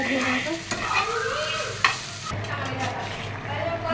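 Okra fries and is stirred in a pan for a fish, potato and aubergine chorchori, giving a steady close sizzle with scraping stir strokes and a sharp clack near the middle.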